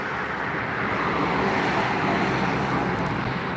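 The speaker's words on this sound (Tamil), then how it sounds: "பைபாஸில் ரோடில் அது மாதிரி ஃப்ளோவாக டிராஃபிக் போயிட்டுருக்காங்க" Traffic flowing along a bypass road, a continuous broadband roar of passing vehicles with a steady, windy, surf-like texture, heard from a moderate distance with no talking.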